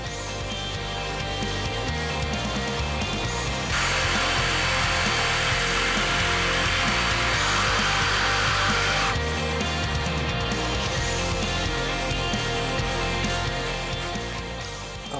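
A power saw makes another trimming cut through a wood slat for a patio slat wall, a loud steady whine with a harsher cutting stretch in the middle and no talk.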